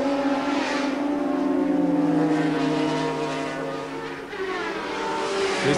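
Kawasaki racing motorcycles at a 1988 British superbike race at Mallory Park, a continuous high-revving engine howl that swells and shifts in pitch as the bikes pass, loud and unbroken throughout.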